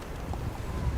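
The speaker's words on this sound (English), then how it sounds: "The winds are coming out of the south-southeast at 17 miles an hour, and I'm pretty sure they're gusting in upwards of 30" Strong gusting south-southeast wind at an outdoor track and field meet, buffeting the microphone as a low rumbling roar for a brief moment, with no voices.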